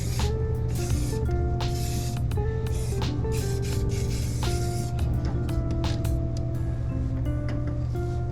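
Hairspray hisses from an aerosol can in repeated short bursts onto a Ford Bronco part, close by, over a steady low hum and some small metallic clinks.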